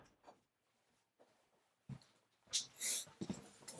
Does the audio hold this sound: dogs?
yes